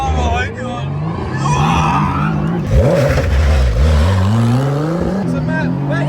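A rear-wheel-drive Lamborghini launches hard, its engine climbing through rising revs with a roar and brief tyre noise, loud from inside the cabin, while excited voices talk over it.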